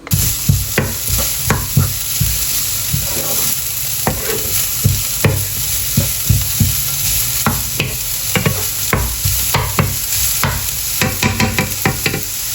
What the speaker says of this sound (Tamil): நான் பப்ரிக்கா இப்படி நீளமாக வெட்டி சேர்த்து வதக்கினான்